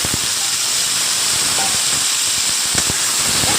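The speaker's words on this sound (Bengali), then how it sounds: "এই দেখুন সবজিগুলো একটু তেলের মধ্যে নেড়ে নিলাম।" Spring onion, tomato and ginger frying in hot oil, a loud, steady sizzling hiss with a few faint clinks from stirring.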